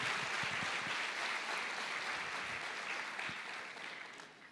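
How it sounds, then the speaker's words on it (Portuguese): Church congregation applauding steadily throughout, dense sustained clapping that tapers slightly toward the end, no talk over it. "Queridos, pode aplaudir mesmo o Senhor"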